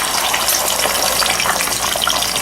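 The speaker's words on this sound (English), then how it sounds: "we're going to fry these up real quick" Eggs fry in a very hot pan with a loud, dense, continuous crackling hiss close by. The sizzle stays steady throughout with no talking.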